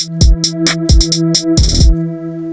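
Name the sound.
hi-hat pattern with all notes at same level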